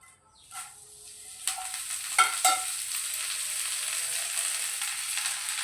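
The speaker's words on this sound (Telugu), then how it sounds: "1 స్పూన్ ఆయిల్ వేసుకొని, ఇది చిన్న స్పూనే. ఇప్పుడు కరివేపాకు వేయించుకుందాం." Curry leaves hit a spoonful of hot oil in a pan and sizzle, the frying hiss swelling after a couple of clinks and stirring scrapes, then holding as a steady, close crackle.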